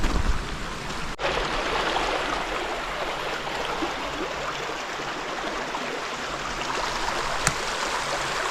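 River water rushes steadily past a sandy stretch of Comox Lake's shore area, a constant, close broadband flow with no talking and a couple of brief clicks.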